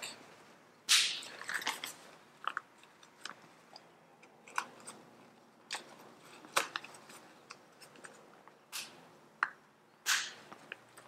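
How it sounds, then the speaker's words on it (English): S-clips on a water bottle sleeve snap onto backpack webbing in a series of sharp, close plastic clicks and scrapes, irregularly spaced, with soft fabric rustling between them. "take these S-clips on the water bottle sleeve and clip them onto the webbing"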